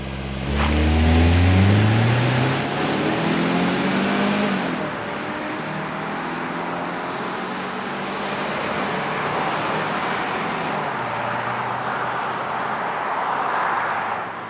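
A 2026 Kia Sportage crossover drives on the road, a steady engine and tyre roar heard from inside with a rising rev early on, then an even cruising hum throughout.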